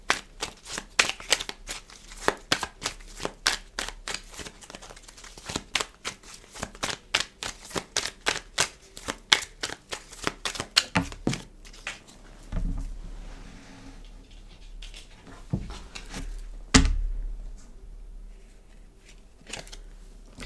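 Tarot cards being shuffled by hand, a long run of quick crisp riffling flicks close up, then slower separate card slaps and drops with pauses between them.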